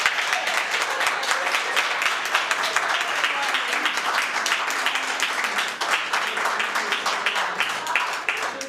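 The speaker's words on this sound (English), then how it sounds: "we want to give an astounding round of applause to the opposition" An audience at a public sector debate competition applauds the opposition team, a steady mass of sharp individual claps that carries on for several seconds without letting up.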